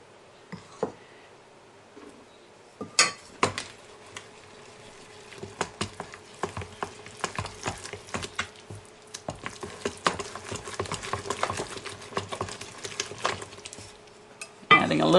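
A spoon works flour into pizza dough in a bowl, giving irregular scrapes, knocks and clinks against the bowl's sides. The sounds are close and fairly quiet, with busy bursts of stirring and short pauses between them.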